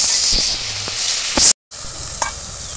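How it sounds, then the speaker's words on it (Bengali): Ginger and turmeric powder sautéing in a pan, a loud close sizzle with a few scraping stirs, briefly cut off to silence before the frying resumes. "এর মধ্যে হলুদ গুঁড়ো দিয়ে দেবো, আদাটা কাঁচা গন্ধ যাওয়া পর্যন্ত একটু কষিয়ে নেব।"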